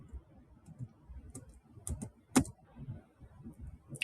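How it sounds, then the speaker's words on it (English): Computer keyboard key presses and mouse clicks during work in Revit, scattered soft taps with one sharper click, close up over faint background noise. "If you want to rotate, then press space from keyboard."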